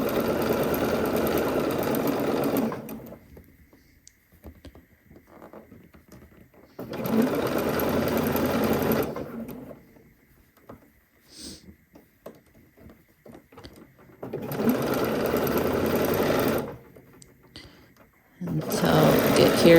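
A Love Notions Aurora sewing machine runs in three steady bursts, stitching and backstitching fabric to gather a neckline and sleeve, its motor whirring and clattering close by, with quiet handling noises in the pauses between runs.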